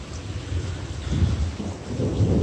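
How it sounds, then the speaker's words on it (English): Heavy monsoon rain pours at night, a steady dense wash with low rolling thunder rumbling beneath it, swelling in a few surges, with no voices. "This one, it's raining pretty good, but"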